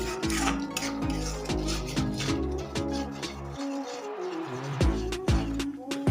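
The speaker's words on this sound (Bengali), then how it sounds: "এবার মশলাটাকে ভালো করে কষিয়ে নেব" Spice paste is stir-fried in a pan for a Bengali pabda fish recipe, with a metal spatula scraping and clanking against the pan in a steady, close rhythm and a short pause midway.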